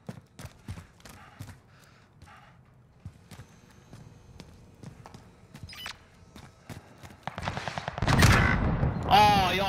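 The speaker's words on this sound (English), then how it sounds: "Oh, he RPG'd me, the prick." Gunfire and an RPG rocket hit in a first-person shooter video game: sparse sharp shots and rapid bursts at moderate loudness, then a loud rushing blast with a long roaring tail near the end.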